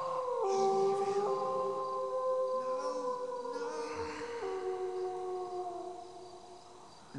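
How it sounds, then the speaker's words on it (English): A dog howls within the PC adventure game Shivers, drawn-out wavering tones layered over eerie sustained game music, steady and fairly loud for about seven seconds with no talking. "That was just a dog howling."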